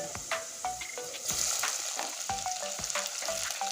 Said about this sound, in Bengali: পেঁয়াজটা আবার ছেড়ে দিচ্ছি তেলে